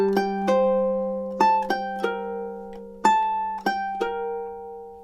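A ukulele plays two measures of a TV theme, with plucked notes over a sustained low drone. The rhythm is sparse and repeating, with high notes ringing out clearly and alone.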